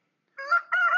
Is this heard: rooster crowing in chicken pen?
yes